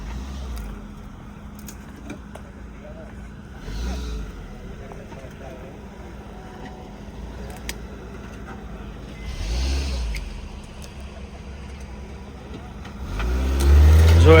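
A Mahindra Thar off-road vehicle labours through deep mud at Vasad, its engine droning at a distance with surges of revving that build loudest near the end, alongside faint background voices.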